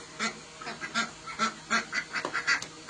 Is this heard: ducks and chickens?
yes